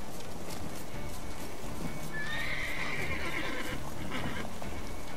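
Horse Roach in The Witcher 3 video game gives a loud whinny mid-clip over steady clip-clop hoofbeats and game ambience, with no talk.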